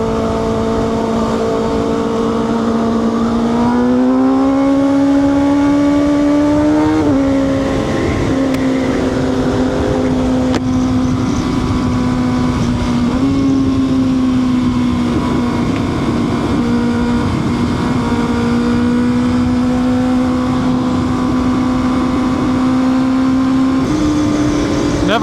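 A 2025 Kawasaki ZX6R motorcycle rides through traffic with a loud, close, continuous engine drone that rises and falls with throttle changes and gear shifts, and no voices.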